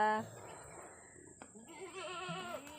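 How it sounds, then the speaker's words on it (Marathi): A goat bleats loudly at the start, then another wavering bleat follows, close by, on a farm over faint outdoor background noise. "हे इथं शेळ्या आहेत"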